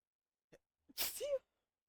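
A single sharp sneeze bursts out, close and fairly loud, preceded by a brief quick inhale; a lull of quiet surrounds it during a casual tabletop role-playing session.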